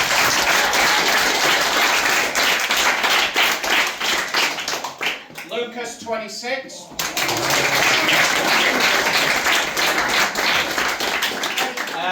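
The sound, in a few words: audience clapping for award winners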